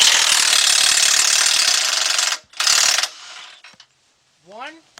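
A 1/2-inch drive ratchet turns a 21mm deep socket on a 2005 Chevy Trailblazer suspension bolt, giving loud continuous clicking that stops briefly and resumes before a short squeak at the end.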